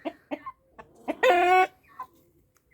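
Several short, soft clucks from chickens, followed by a louder, drawn-out squawk, then a few faint clucks trailing off.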